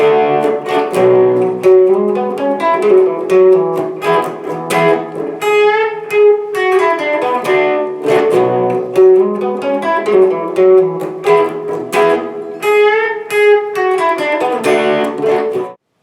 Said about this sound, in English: You can play both of those riffs together during the 3rd section.